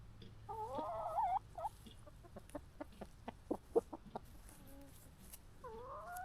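Wyandotte chickens in a backyard flock cluck and murmur nearby, a run of short, soft clucks with a few drawn-out warbling calls at the start and end, fairly quiet with a faint low hum underneath.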